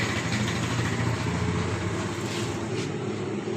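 A Shahzad sewing machine, with its thread set after a fault, runs steadily while stitching fabric, making a continuous close mechanical whir and rumble with a fast rattling pulse underneath.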